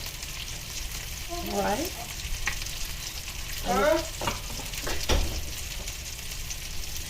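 Tomato paste sizzling in a frying pan with garlic, a steady hiss of frying broken by stirring scrapes and brief louder sputters; a voice speaks briefly.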